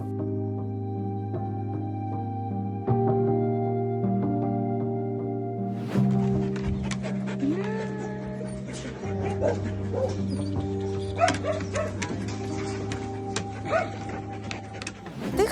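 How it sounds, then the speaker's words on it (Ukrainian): A dog whimpers and gives short yips and barks, close by, over a steady low hum that fills the background throughout. "А це наш песик Тихон."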